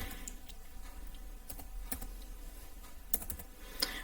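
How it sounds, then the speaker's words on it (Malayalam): Keystrokes on a computer keyboard tap out a short search entry, sparse clicks scattered over a quiet room hum with a couple of sharper strikes near the end, no talk. "ഗൂഗിൾ ടാഗ് മാനേജർ എന്ന് ടൈപ്പ് ചെയ്ത് കൊടുക്കുക."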